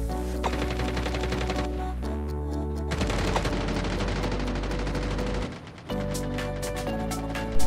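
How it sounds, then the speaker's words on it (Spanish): Rapid bursts of video game gunfire crack in quick succession, loud and dense, with brief pauses between volleys. "se escuchan disparos"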